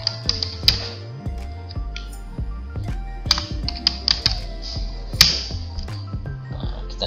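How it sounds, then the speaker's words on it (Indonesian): Computer keyboard typing while entering data into the SIKaP procurement application, a steady run of close, crisp key clicks with a few louder taps, no talking over it. "bisa langsung kita ketik di sini Sikap"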